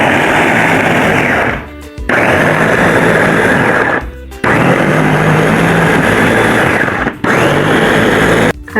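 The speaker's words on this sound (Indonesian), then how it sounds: "kita blender ya bun." A kitchen blender purees tomatoes with a loud, close motor whir, running in three long bursts separated by brief pauses where the motor drops out and restarts.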